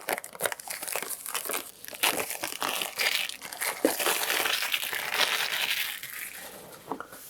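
Packaging for Sennheiser Momentum True Wireless 2 earbuds crinkles and crunches as it is unboxed, a continuous close rustle of paper and plastic with sharp crackles and no speech.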